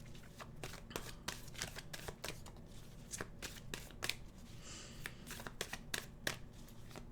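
A deck of tarot cards is shuffled by hand, rapid close riffling and flicking in repeated quick bursts, with a faint voice in the background.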